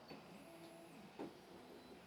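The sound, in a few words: 3D printer homing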